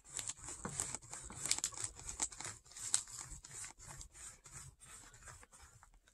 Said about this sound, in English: I'm going to apply my buffing compound.